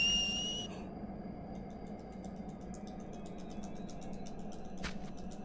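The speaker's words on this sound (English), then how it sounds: "You heard a whistle, Yuna?" A bright, high whistle sounds in Final Fantasy X-2 HD Remaster, a short tonal note at the very start that cuts off, followed by faint ticking game sounds over a low steady hum.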